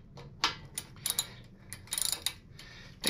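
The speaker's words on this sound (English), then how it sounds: "First thing I want to do is loosen up this pinch bolt on the front axle." A 5/16 Allen key works the front axle pinch bolt on a Harley Lowrider ST, giving a few sharp metallic ratchet-like clicks and ticks in a quiet workshop with no talking.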